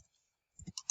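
A few quick plastic key clicks from a computer keyboard, the tab key being pressed while typing a resume, arriving in a short burst of three or four taps after a silent stretch.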